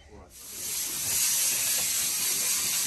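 An industrial sewing machine in a quilting shop starts up and runs as a loud, steady, close mechanical hiss and whir.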